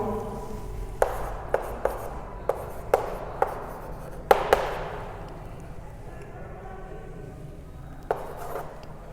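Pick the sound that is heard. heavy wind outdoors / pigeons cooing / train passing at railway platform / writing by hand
writing by hand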